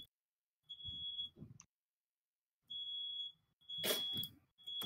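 A household smoke alarm sounding in a house, giving repeated shrill high-pitched beeps in bursts with pauses between them, with a low rumble under some bursts.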